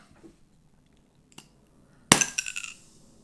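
A Ramune soda bottle from Japan is popped open: a couple of faint taps, then a sharp glassy crack of the marble seal, followed by a short bright fizzing hiss that fades within a second, close and alone.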